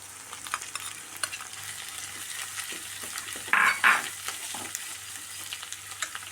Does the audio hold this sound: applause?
no